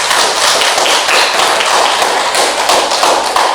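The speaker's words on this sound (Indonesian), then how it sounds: "Tepuk tangan untuk Anissa" Applause for a student in a classroom lesson: dense, steady clapping from a group that carries on loud and even throughout.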